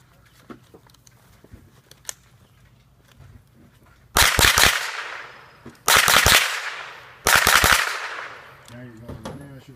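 Rifles fire in three loud, rapid bursts of overlapping shots at a tactical rifle competition on an outdoor range. The volleys are close and sharp, separated by short pauses, with quiet handling noises and faint voices before and after.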